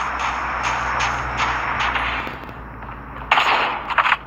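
Gunfire in Call of Duty: a run of rapid gunshots in evenly spaced bursts over a low background hum, ending in a louder, denser cluster of shots.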